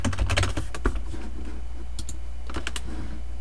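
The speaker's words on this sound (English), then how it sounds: "And we could write Matthew" A name being typed on a computer keyboard in MS Word: quick bursts of clicky keystrokes, a fast cluster at first, then a pause and a few more taps, close and clear over a low hum with no talking.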